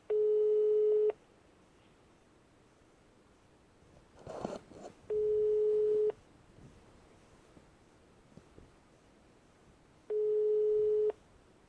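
A telephone line gives three steady, evenly spaced tone beeps, each about a second long and roughly five seconds apart, as a call fails to get through. Faint background noise and a brief rustle fill the gaps.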